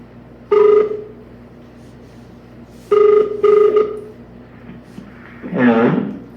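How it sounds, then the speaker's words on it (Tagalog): An outgoing cellphone call rings back in repeated tones: one ring, a pause, then a double ring, followed by a fuller burst near the end, all fairly loud and close. "Tawagan po natin siya."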